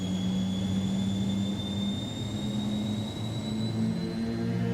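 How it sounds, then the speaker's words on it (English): MD80 jet engines in Microsoft Flight Simulator spool up for takeoff, a steady loud roar with a deep droning hum and a thin rising whine that holds for several seconds without speech. "Listen to that. The takeoff sounds are epic."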